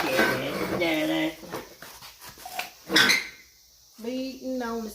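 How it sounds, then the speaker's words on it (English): A dog whimpers and moans in short, high, whining bursts, close by, while a person talks over and between the whines near a wrecked 1967 Mustang being repaired. "My dog is moaning."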